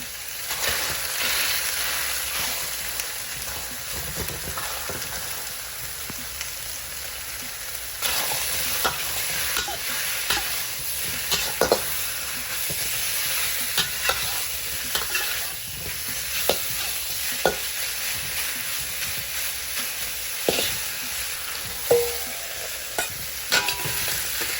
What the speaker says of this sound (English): What we want to do is just get some nice brown color on all the beef, and then we're going to take it right out.